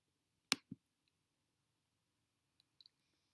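A couple of crisp mouse clicks close up in a quiet room, followed by a few fainter taps after a pause.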